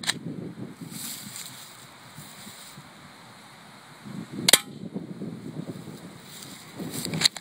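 A cheap, low-powered spring BB gun fires at a target from a distance, giving one sharp, brief snap in the middle, then a fainter second crack near the end, over wind noise.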